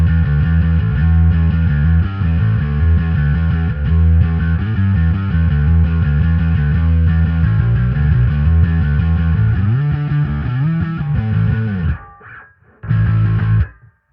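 A bass guitar played through a Darkglass Entropia effects unit gives a thick, distorted, chorus-tinged tone. Sustained notes ring loudly and continuously, then the sound cuts off near the end before one short final burst.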